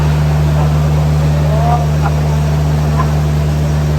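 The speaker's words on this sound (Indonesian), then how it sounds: "Blowernya itu tidak putus ya, dia 24 jam nyala terus." Aeration blower at a hospital wastewater treatment plant that runs around the clock, giving a loud, continuous droning hum with a steady low tone throughout, with faint distant sounds over it.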